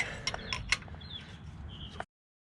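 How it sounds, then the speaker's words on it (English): Ratchet wrench loosening 14mm alternator bolts on a Toyota pickup with a 22RE engine: a short burst of close, quiet metallic clicks and ratcheting ticks, then an abrupt cutoff. "loosen these 14mm bolts on the bottom side of the alternator"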